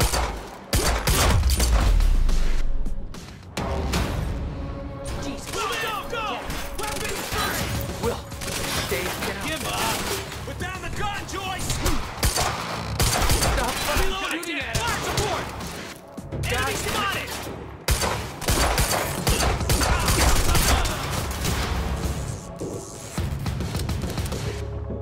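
Gunfire erupts in the video game Quantum Break, dense bursts of shots, impacts and crashes filling a loud, chaotic firefight while characters talk over the din.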